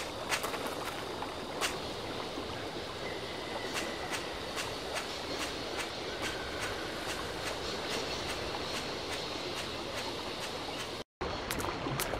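A train rolls steadily along in the video game Syberia, a continuous rumbling wash with faint periodic clicks and rattles, alone without talk, cutting out briefly near the end.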